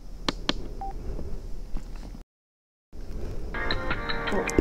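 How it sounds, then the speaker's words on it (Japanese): A LEXIN GTX motorcycle helmet intercom gives electronic connection beeps after its button is pressed, a few short tones, a brief dropout, then a bright burst of chirping tones, heard over faint background noise. "インカムボタンを押します。"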